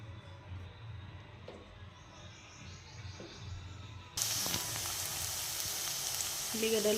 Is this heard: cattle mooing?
no